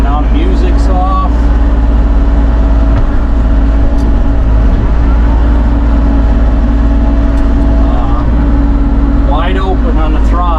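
An engine runs at wide open throttle before it has warmed up, giving a loud, steady drone that fills the whole stretch, heard from inside a vehicle, with a voice speaking over it.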